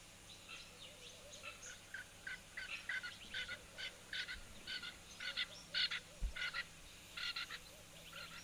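A Kenyan francolin calling at a wildlife waterhole, a series of harsh, rhythmic cackling bursts repeating at a middling distance and building toward a louder stretch near the end, over a quiet outdoor background.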